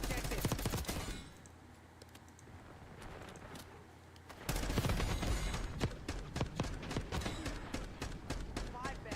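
Light machine gun fire in a shooter game rattles loudly at first, pauses, then returns as sustained rapid bursts, with someone talking over the action.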